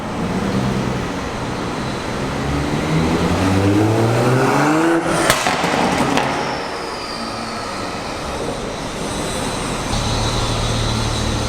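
A Mk5 Toyota Supra with catless exhaust rumbles and revs loudly, rising in pitch before a sharp crackling pop, then settles into a steady throaty idle.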